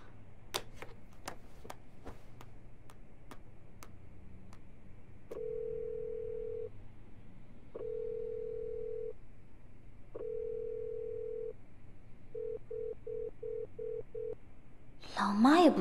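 A telephone call going unanswered: rapid dialing clicks, then repeated long ringback tones, several shorter pulses, and a burst of voices at the very end.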